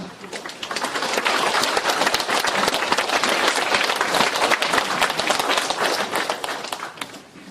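A lecture-hall audience gives sustained applause for a guest speaker at a Thursday philosophy and humanities forum, dense steady clapping from many hands that swells quickly and holds for several seconds before tapering slightly.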